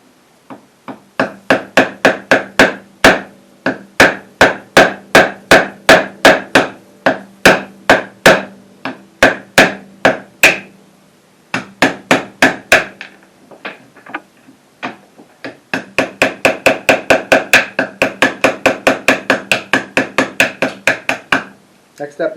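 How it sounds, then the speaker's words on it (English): A hammer strikes a chisel to pop a trimmed piece of wood out of an acoustic guitar neck, in sharp, close, evenly spaced taps delivered in bursts with short pauses between runs. "take a chisel and pop that piece out that I just trimmed"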